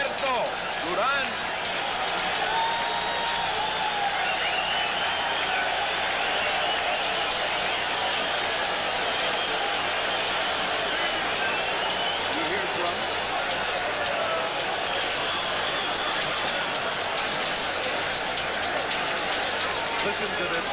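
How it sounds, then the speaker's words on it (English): A packed boxing arena crowd in Montreal roars for Roberto Durán before his fight with Sugar Ray Leonard, a dense, unbroken wall of cheering and hubbub that holds steady for about twenty seconds, with a commentator talking over it. "Listen to this crowd."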